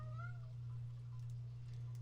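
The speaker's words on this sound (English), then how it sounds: "Heather, your cat is angry." A house cat meows in a few short, rising calls near the start, fairly close, then falls quiet over a steady low hum.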